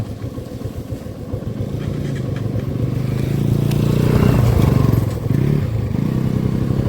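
A 150 cc motorcycle labours uphill in low gear on a rough, rocky track, its engine thrumming loud and close as revs build, with clattering and scraping from the stones beneath.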